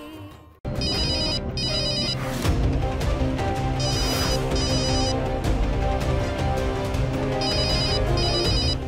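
A phone ringtone plays loudly and steadily, a repeating electronic melody with bright ringing tones, after a brief quiet start.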